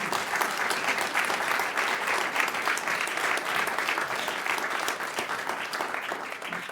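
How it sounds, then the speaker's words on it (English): At a science diplomacy event, an audience gives a long, steady round of applause, dense clapping that holds evenly throughout with only slight fading near the end. "So I want to give you guys a round of applause to say thank you very,"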